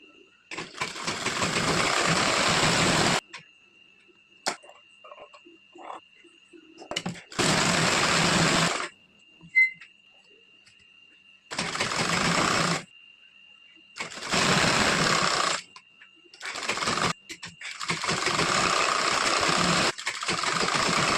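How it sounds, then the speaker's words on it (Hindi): Electric sewing machine stitching a blouse sleeve with lining, running in five or six loud bursts of a few seconds each, separated by near-silent pauses with a faint steady hum. "इसके बाद हम स्लीव की सिलाई करेंगे।"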